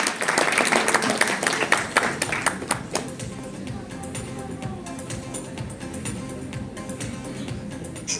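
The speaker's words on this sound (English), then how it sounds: "Can we please also give him a big round of applause," A crowd at the launch event for a women's handball league in India bursts into loud, dense applause that thins after a few seconds into scattered, quieter claps.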